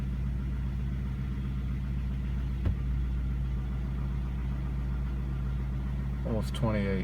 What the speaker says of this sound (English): I'm going to accelerate, bring up the idle, and we'll watch this gauge.